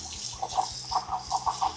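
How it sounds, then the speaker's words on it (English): Tap water runs and splashes in short uneven bursts while rinsing developed photographic film, faint and close, with gurgling pulses and a low hum underneath. "Take some tap water"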